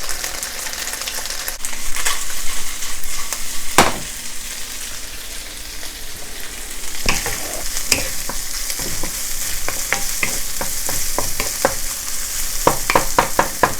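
Sliced pork sizzles loudly with ginger, garlic and onion in a Sichuan-style lotus root stir-fry, a continuous close frying hiss broken by sharp scrapes and clacks of stirring.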